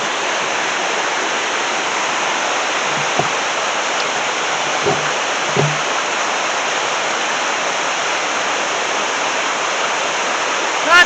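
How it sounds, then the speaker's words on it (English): A river flows steadily in the morning, its broad, even rush of water continuous and fairly near, with a few faint low bumps but no voices. "Let's take a look at the river this morning."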